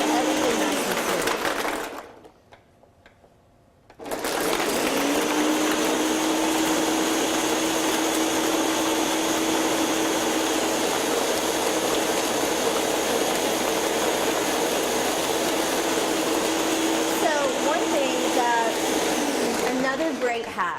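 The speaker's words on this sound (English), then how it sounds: "we're going to take our top and we're going to get this thing blended up and see where we're at" Countertop blender whirring loudly as it purees a chocolate smoothie, starting briefly, pausing for a couple of seconds, then running continuously at a high steady roar close by.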